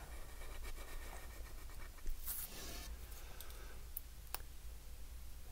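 Pencil drawing on paper in a quiet room, a faint steady scratching with light clicks and a couple of brief sharper taps, close and soft, with no voices.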